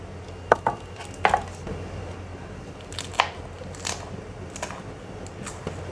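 Knife chopping onion, green chilies and tomato on a board for samosa filling, a few sharp close taps in uneven bursts, then sparser single cuts against quiet room noise.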